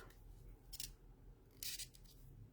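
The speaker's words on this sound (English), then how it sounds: "then I'm going to snip it off" Scissors snip beading thread after knots on a beaded bracelet, giving two short, crisp cuts, quiet and close, with a low room hum underneath.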